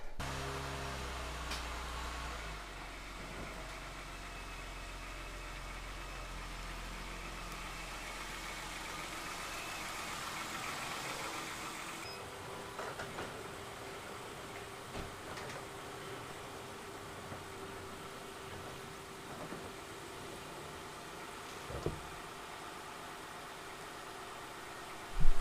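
A Honda Pilot running on a test drive, its engine a low, steady hum heard from inside the cabin, fairly quiet, with a few faint knocks and clunks and a sharp bump at the end, no talking.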